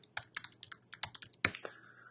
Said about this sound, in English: I know you can hear me typing, and I apologize.